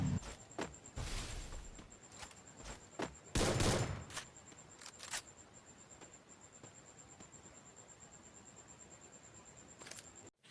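Gunfire rings out in a battle royale video game, with several sharp close bursts and single shots in the first few seconds, then sparse distant pops and faint footsteps over a quiet background.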